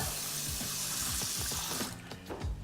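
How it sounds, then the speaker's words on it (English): Water pours and splashes steadily into a container of cinnamon spice oats, a continuous trickling rush that thins near the end with a few light clinks. "And then I'll add just a tiny bit of water."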